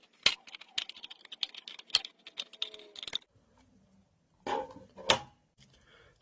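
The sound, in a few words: scissors cutting thick hard plastic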